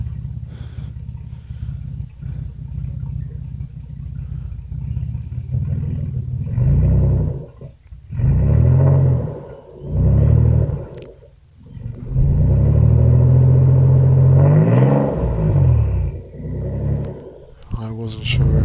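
A Nissan Stagea NM35 with a turbocharged VQ25DET engine revs in bursts, deep roaring swells rising and falling over a rumbling idle, close and loud.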